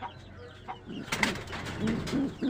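Racing pigeons coo in low, throaty calls close by, with a few soft coos rising and overlapping over a couple of seconds.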